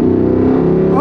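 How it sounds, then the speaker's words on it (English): A Jeep with a big V8 engine accelerating up close, its deep, steady roar holding for about a second before the pitch climbs at the end. "You got a Jeep with this big old V8 engine, man. When you step on the gas"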